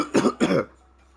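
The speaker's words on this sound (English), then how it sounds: "Boy, coughing." A man coughs twice in quick succession, close and fairly loud, with quiet room tone after and no speech.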